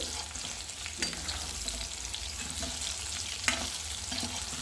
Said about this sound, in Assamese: এয়া আমাৰ কোমোৰা হাফ ফ্ৰাই হৈ গৈছে অলৰেডি।